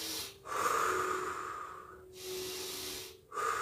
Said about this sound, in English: I'm doing kidney breathing to get myself more energy.